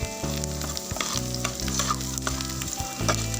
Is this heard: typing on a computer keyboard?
no